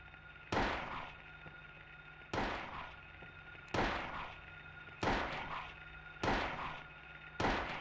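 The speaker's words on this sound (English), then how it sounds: "start shooting" Gunfire in the PlayStation game Silent Hill: six sharp, loud shots spaced about a second apart, each with a short ringing decay over a low steady background hum.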